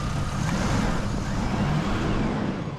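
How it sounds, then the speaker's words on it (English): A 2002 Chevy Blazer engine runs in a steady, loud broadband rumble mixed with road noise while driving, with no talk over it. "Engine sounds good."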